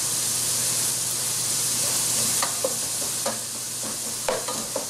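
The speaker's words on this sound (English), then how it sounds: "I'm just cooking the onions next to the meat for a little bit" Onions sizzling beside browning meat in a pan for lasagna, a steady close hiss with a few scattered clicks and scrapes of a utensil, no voices.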